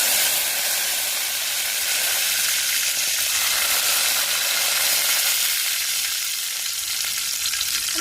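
Mustard seeds and curry leaves crackle and sizzle in hot oil for a Tamil fish kuzhambu, a loud, dense, steady frying hiss that runs the whole time without pause.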